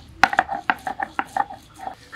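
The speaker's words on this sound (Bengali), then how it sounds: "আদাটা আগে নিলাম, একটু থেতলে নেই যাতে তাড়াতাড়ি বাটা হয়ে যায়" Fresh ginger knocked and crushed on a flat stone grinding slab, the rough first pounding before grinding it into paste for a rui fish curry. About eight irregular, close, sharp knocks, each with a short clattery ring.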